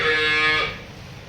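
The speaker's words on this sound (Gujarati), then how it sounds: "બધી ગાય આવી છે" A cow at a farm, amid cattle being sold and milked, lets out one loud, close moo with a strong harmonic tone that lasts about half a second before fading into quiet background, with no talking.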